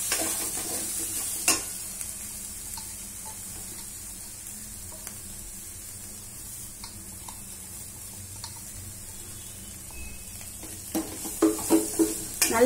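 Beans poriyal mixed with ground groundnut powder in a pan gives a soft, steady sizzle with occasional scraping clicks of the spoon, the clicks growing busier toward the end.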